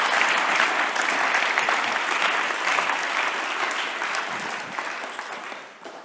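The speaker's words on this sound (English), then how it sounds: "Can we give Emyr a round of applause?" A full audience applauds in a large venue, producing a loud, dense and steady wash of clapping that holds for several seconds before tapering off at the end.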